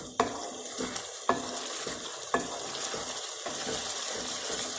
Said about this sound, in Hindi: ऐसे मसाले में भून रही हूँ मटर